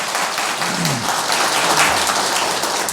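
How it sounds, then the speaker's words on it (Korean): Audience applause at a book concert fills the space, a steady wash of many hands clapping together without a break, close and full, with a faint voice surfacing briefly beneath it. "그 점을 뒤늦게나마 우리가 박수로 격려해 줍시다."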